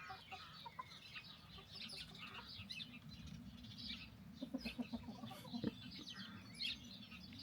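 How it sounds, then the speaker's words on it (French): Chickens cluck and call softly in a backyard vegetable garden, a few short pulsing clucks standing out midway over steady outdoor background noise and faint bird chirps. "Madame mon poulet, tu vas me tenir compagnie?"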